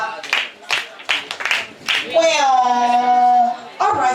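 A group gives a quick "mosquito clap" at a reading marathon session: short bursts of hand claps come in a rhythm over the first two seconds, then a long sustained voiced sound follows.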